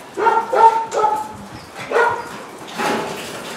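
Small puppy giving a few high, yappy barks and whimpery yips in separate bursts, close by, with quiet pauses between them and no talking over them.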